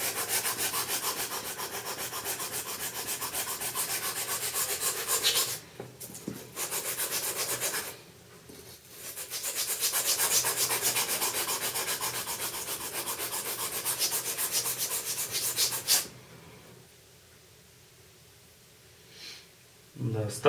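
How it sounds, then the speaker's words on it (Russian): Abrasive paper rubs close and loud across the hard steel blade of a Ganzo G707 folding knife in fast, steady strokes. The sanding breaks off briefly twice, then stops near the end, leaving quiet with a few faint movements. "мне придется взять более крупную наждачку"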